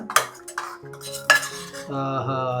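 Mutton keema being stirred in an opened pressure cooker, with loud close metallic scrapes and clanks of a spoon against the cooker, followed by a steady ringing tone near the end.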